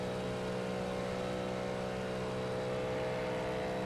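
LMP3 prototype race car in iRacing with a steady, droning engine note held at constant pitch, loud and close, with no talking over it.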